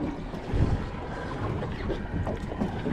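Wind gusts roar over a light aluminium tinny out at sea near Torres Strait islands, a steady rumbling buffet with water sloshing against the hull, close and continuous with no speech.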